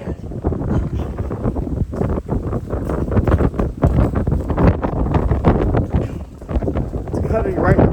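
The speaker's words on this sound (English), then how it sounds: "The wind's cutting through my hat." Strong, cold wind buffets the microphone outdoors near trees at night, a loud continuous roar with gusty rumbling that holds steady throughout.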